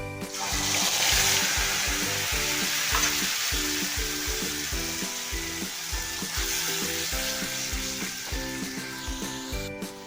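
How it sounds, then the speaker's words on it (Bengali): Cumin, green chili and onion paste frying in hot oil for a duck egg kosha, giving a steady loud sizzle and spatter throughout, with background music playing underneath. "জিরে কাঁচা লঙ্কা আর পেঁয়াজ একসঙ্গে বেটে রেখেছিলাম এটা আমি তেলের মধ্যে দেবো"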